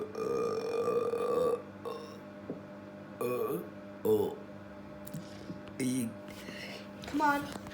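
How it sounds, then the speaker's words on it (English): Repeated burps for a burping contest with Lion King characters come in short separate bursts, moderately loud and close, with a voice in between. "Do a big one, a much more funnier sound."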